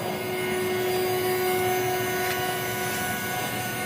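An industrial in-line system machine runs its automatic cycle, producing a steady, loud mechanical hum and whine with a constant tonal drone, continuous and unbroken, with no voices.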